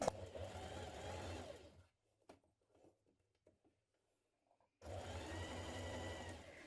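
A sewing machine understitches around the armhole of a jumpsuit, running in a loud steady whirr for about two seconds, pausing through a quiet stretch with faint handling clicks, then running again just as steadily.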